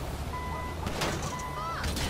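An armored cash van in GTA V idles and moves with a low, steady engine rumble, while faint electronic beeps sound over it at intervals.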